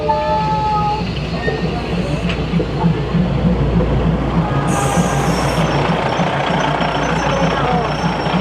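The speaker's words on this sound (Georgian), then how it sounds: "ესეც ჩვენი მატარებელი და ჩასაფრებული ტურისტები ამ კადრების გადასაღებად" A train passes very close in Bangkok with a loud, steady rumble and rattle that fills the whole clip, plus a brief high metallic squeal midway. Voices murmur faintly underneath.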